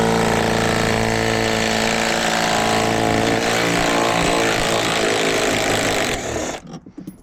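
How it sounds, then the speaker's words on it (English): A cordless high-powered impact ratchet backs out 18mm bolts on a newer Dodge during a trailer brake module recall, giving a loud, continuous buzzing rattle close up that drops off and sputters to a stop near the end. "It's a high powered ratchet. It's like an impact ratchet is what it is."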